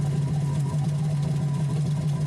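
A 2003 Yamaha GP1300R jet ski fitted with a Riva free flow exhaust idles with a steady, even low drone and a faint fluttering pulse, close and unbroken throughout.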